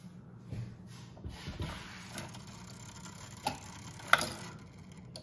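Antique Black Forest eight-day double fusee shelf cuckoo clock from around 1860, with its mechanism ticking softly and steadily, a few sharper mechanical clicks standing out, in a quiet room with no talking.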